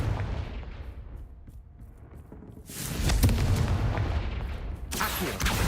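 In Hogwarts Legacy, a fiery Confringo spell blast booms out close and loud, followed by rumbling, crackling combat explosions and a second sharp burst.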